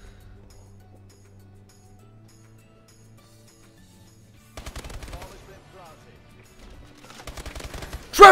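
Rapid automatic gunfire rattles out in the Advanced Warfare video game, two bursts of quick shots after a long quiet stretch of low game hum, ending in a sharp louder crack.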